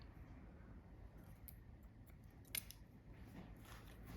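Scissors point cutting curly hair on a short hairstyle, a few faint, soft snips against a quiet background, with one crisper click standing out partway through.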